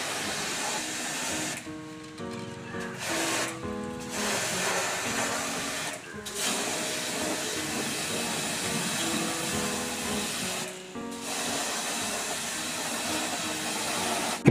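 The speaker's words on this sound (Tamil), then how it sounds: "இப்போ அவுட்டோர் யூனிட்டை ஜெட் ஸ்ப்ரேயை வச்சு க்ளீன் பண்ணிடலாம்." A jet spray washer cleans the outdoor unit of a Blue Star 1.5 ton air conditioner, a loud, steady hissing rush of water that runs almost without a break, with a few short drops where the spray pauses.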